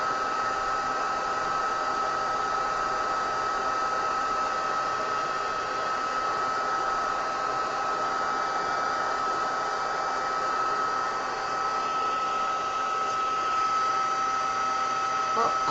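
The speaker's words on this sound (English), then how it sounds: "my heat tool is not getting it" A handheld heat embossing tool blows hot air over embossing powder, giving a steady, loud whirring hiss with a faint tonal whine that runs unbroken the whole time.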